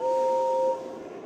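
A steam engine whistle in the Thomas and Friends Trouble on the Tracks PC game gives one steady two-tone blast, clear and close, with no voices.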